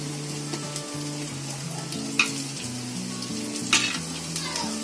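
Mixed vegetables sizzle and fry in a pan for a veg pizza puff filling, a steady hiss with faint stirring scrapes and a couple of sharp utensil clinks near the middle and end, no talking.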